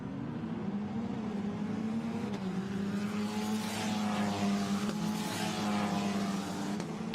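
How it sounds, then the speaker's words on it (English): Formula Renault race cars pass on the wet Spa-Francorchamps circuit in rain, a steady, loud engine drone with rising and falling pitch as the cars sweep by, mixed with spray hiss. "As the leaders go by, Colapinto it is up front"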